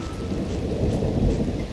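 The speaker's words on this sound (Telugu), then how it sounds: "వర్షంలో తడవకుండా ఉండాలంటే ఎక్కడికైనా వెళ్ళి దాక్కోవాలి" A cartoon thunderstorm with heavy rain gives a steady, dense wash of rainfall and low thunder rumble, loud and continuous with no voices.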